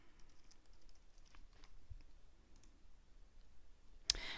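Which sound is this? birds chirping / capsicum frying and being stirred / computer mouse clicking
computer mouse clicking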